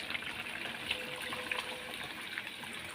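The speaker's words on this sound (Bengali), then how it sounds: "এখন আমি জল দিয়ে দেবো" Water poured into a pan of potato curry for luchi and roti, a steady broadband gush filling the pan at moderate level throughout, with no talk over it.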